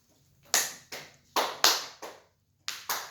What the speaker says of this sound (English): Now clap them 3 times.